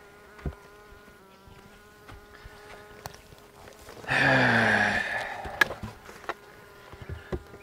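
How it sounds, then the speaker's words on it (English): A brief burst of buzzing bees at a hive rises for about a second over a quiet background with scattered soft knocks and clicks. "Bees don't like this kind of weather."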